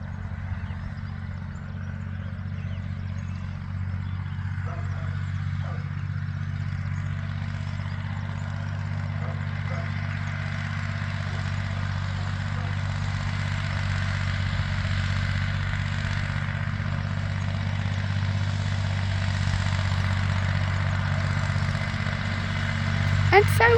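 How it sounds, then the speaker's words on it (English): On farmland, a tractor's low, steady engine drone grows gradually louder as it approaches from a distance, holding an even rumble throughout. "And there comes the tractor."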